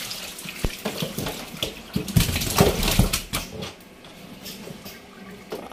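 Water splashes and pours out on a fishing boat near Samaliyah Island, an irregular close gush with bursts of sloshing that swell in the middle and then settle to a lighter trickle, without any voices.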